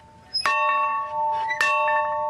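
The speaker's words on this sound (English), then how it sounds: "The bells invite me." A bell rings twice, two clear resonant strikes with long ringing sustained tones, close and alone in a quiet setting without talk.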